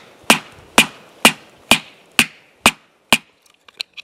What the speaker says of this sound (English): Let's see how well the hammer works.